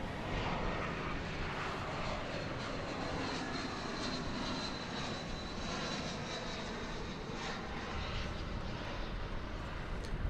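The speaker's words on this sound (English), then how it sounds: "Coming in from Baltimore, Washington International Airport. Airbus A320." A Spirit Airlines Airbus A320 jet arriving at DFW Airport produces a steady, loud engine roar that holds evenly throughout, with no talking.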